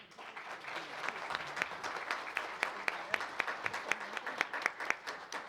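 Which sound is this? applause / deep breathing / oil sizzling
applause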